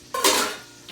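Vegetables being tossed in a cooking pan, a quick metallic clank followed by a brief rushing sizzle-like swish that fades, close and fairly loud, no voices.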